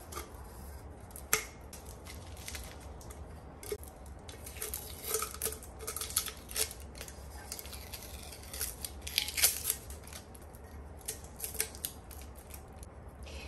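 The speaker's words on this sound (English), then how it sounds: "we're going to go ahead and remove the tape" Painter's tape is peeled and torn away from a sublimated 20 oz tumbler, with faint crinkling, scraping and small clicks coming in scattered bursts, close and quiet against a low background hum.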